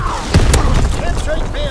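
In a Call of Duty: WWII multiplayer match, an artillery battery fires a loud, close boom, followed by a second burst and rumbling debris, while a voice speaks over the blasts.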